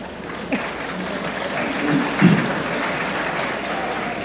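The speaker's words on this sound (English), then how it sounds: "A smattering of applause for sad and redemptive" A convention panel audience at a Supernatural fan event in Las Vegas gives a brief smattering of applause, moderate scattered clapping filling the room with faint crowd murmur underneath.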